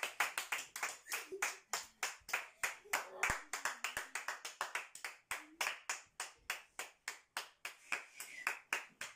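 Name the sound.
applause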